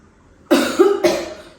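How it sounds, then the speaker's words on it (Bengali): Two harsh, close coughs from an unwell person, a loud hacking burst followed by a second shorter one after a brief pause, alone without speech. "কাশি আসতেছে আর কাশির সাথে সাথে বমিও চলে আসতেছে"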